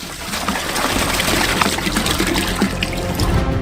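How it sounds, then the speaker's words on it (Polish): Steady rushing pour of water from a bottle splashing into a pot, continuous and fairly loud for a few seconds with no talking. "Otwieramy wodę i wlewamy ją do garnka."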